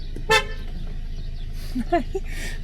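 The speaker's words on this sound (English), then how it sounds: "I don't like having to honk at you" A car horn gives one short, sharp honk, followed by a brief voice and a couple of quieter tonal chirps.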